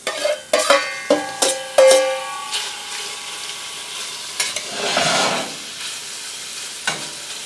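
Beef pieces browning in a cast iron pot on a stove, several loud clanks and scrapes as the meat is stirred, then a steady close sizzle with occasional knocks.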